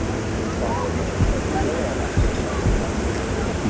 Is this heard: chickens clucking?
no